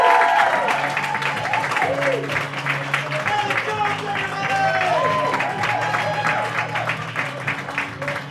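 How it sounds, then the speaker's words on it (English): Comedy club crowd at the Comedy Shrine applauds and cheers loudly after a stand-up set, the clapping sustained throughout while music plays underneath and voices carry over it. "Give him another round of applause."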